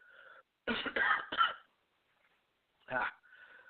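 A few harsh, raspy coughs from a man with a bad throat in quick succession, then a pause and one more cough, with brief bits of a voice at the start and end.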